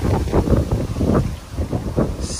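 Strong outdoor wind gusts buffet the microphone in loud, uneven rumbling bursts that rise and fall over a couple of seconds, with no talking.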